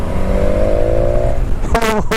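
A 2019 BMW S1000XR motorcycle engine revs up close and loud, its whine climbing steadily before a couple of sharp, quick-shifted blips at the end.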